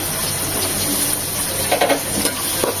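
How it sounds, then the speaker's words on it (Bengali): A cup of chopped onions hitting a pan of whole spices frying for vegetable khichuri: dense, even sizzling with a few brief stirring clatters near the end, close and loud, without speech. "গোটা মশলাটা 1 মিনিট ভেজে নেওয়ার পর দিয়ে দিচ্ছি 1 কাপ পেঁয়াজ কুচি"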